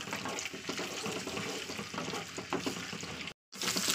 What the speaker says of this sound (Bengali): তো তেলটা গরম হলে দিয়ে দিচ্ছি পেঁয়াজ